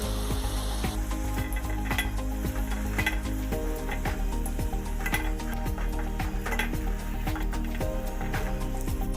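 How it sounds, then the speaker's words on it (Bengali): Vegetable chops fry in hot oil with a steady, soft sizzle, broken by frequent light clicks and clinks of a utensil against the pan. "চপগুলো ভাজা হয়ে গেছে, এবার আমি তুলে নেব"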